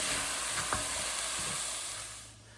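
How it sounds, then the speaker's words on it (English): Onions soften in a pan over low heat for a traditional German Pottsuse, giving a steady, moderately faint sizzle with a couple of light utensil taps that gradually fade. "we take our onion and get them nice and soft. So we saute them a couple minutes on low heat"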